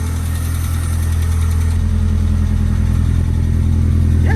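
A supercharged NA Miata engine runs with no intake fitted, a close, steady idle with a firm low throb and an even, buzzy pulse that barely varies from start to finish.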